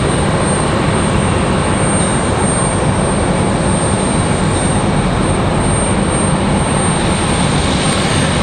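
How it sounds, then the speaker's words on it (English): A Boeing 737 MAX 9 airliner from Newark at Raleigh-Durham airport on a stormy day, a loud, steady broadband engine roar filling the whole stretch without letup, no talking. "There's our MAX 9 from Newark."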